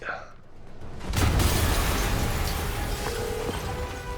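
A building blows up in the Marvel's Spider-Man PS4 game: after a brief quiet lead-in, a heavy booming blast erupts and rolls on as a loud, sustained roar with debris-like crackle.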